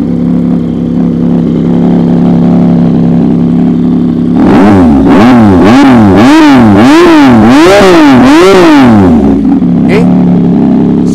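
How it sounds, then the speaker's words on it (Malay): A 2022 Yamaha MT-09 V3 three-cylinder motorcycle fitted with an Austin Racing exhaust idles loudly, then is revved hard about five times in quick succession before settling back to idle; a voice speaks briefly. "So bunyi Austin Racing memang syahdu lah guys."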